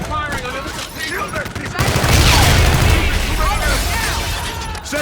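Dense, continuous gunfire rattles and booms through a battle in Call of Duty: Infinite Warfare, loud and close, with shouted voices and explosions mixed in.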